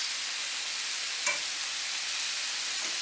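Vegetables and meat sizzle steadily in a paella pan, a close, even hiss with a brief stir or clink partway through and no voices.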